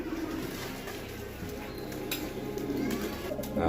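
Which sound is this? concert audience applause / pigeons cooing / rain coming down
pigeons cooing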